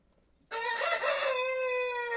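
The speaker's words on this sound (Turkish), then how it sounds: "Görüyorsunuz horoz güneşte" A rooster standing in the sun at a backyard coop crows loudly and close by, one long sustained call after a brief quiet start, with no talking over it.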